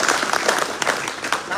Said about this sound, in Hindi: इसलिए साथियों जोरदार तालियों से स्वागत।